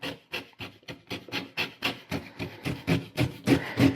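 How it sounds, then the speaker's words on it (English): A knife scraping scales off a sockeye salmon in quick, regular rasping strokes, about a dozen close rough scrapes in steady rhythm with no talk. "just go ahead and scrape off some of the scales, and this also helps remove a lot of that slime"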